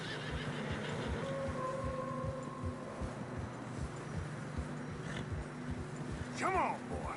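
Horse whinnying in deep fresh snow in the game Red Dead Redemption II, a rising neigh near the end over steady ambient noise, with muffled hooves and a voice talking.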